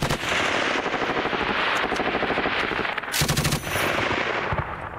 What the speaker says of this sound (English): That's the GPMG firing in.